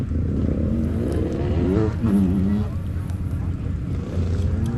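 Honda CRF250F dirt bike engines idle and burble together at a hare scramble race start, a loud steady low drone with some rising revs, close by.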